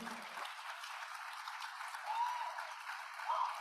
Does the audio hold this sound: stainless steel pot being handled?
no